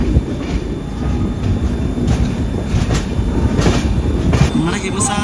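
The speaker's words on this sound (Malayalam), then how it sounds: "നമ്മുടെ ഹിമസാഗർ ഇപ്പോൾ ഇവിടെ നിന്ന് ലെഫ്റ്റ് എടുത്ത് ചിറ്റൂർ തിരുപ്പതി വഴി പോകും" Himsagar Express running along the rails on a South Central Railway route, a steady continuous rumble with faint rhythmic clatter and occasional brighter rail noise, heard close from on board.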